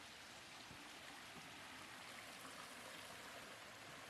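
Nearby, a waterfall rushes with a steady, dense hiss of falling water. It is faint and continuous with no voices over it.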